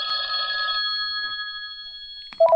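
A telephone rings on a call-in radio show, a bright electronic trill that sounds once, then a thin steady tone lingers before a short higher beep at the end; close and clear with no talk.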